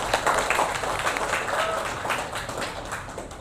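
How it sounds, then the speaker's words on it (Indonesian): Classroom applause from students: steady, moderate clapping that goes on for a few seconds and slowly fades. "Oke, kita beri tepuk tangan yang meriah."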